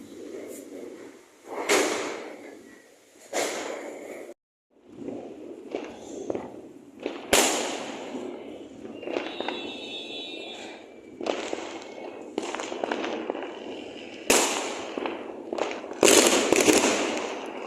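Diwali firecrackers bursting outdoors, heard from a rooftop overlooking the street, with repeated sharp cracks and bangs at irregular intervals, some near and loud, others distant, over a steady background hum.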